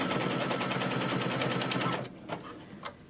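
An embroidery machine stitching around a mug rug in the hoop gives a fast, steady rattling run of needle strokes at close range for about two seconds, then stops, leaving a couple of soft clicks and knocks.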